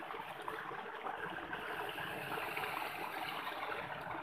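A steady, hissing rush of running water, continuous and fairly close, with no voices.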